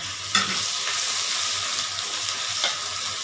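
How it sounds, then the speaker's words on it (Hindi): Crushed garlic frying in a pan of oil while preparing aloo tahari, a steady close sizzle with a couple of brief stirring clinks and no talk. "मैं इसमें गार्लिक यानी कि लहसुन जो कि मैंने कूट लिया उसके बीच में ऐड कर देते हैं"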